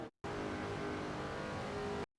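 A Busch Series race car engine drones steadily at Daytona in a racing video game, a loud sustained note held for about two seconds, alone.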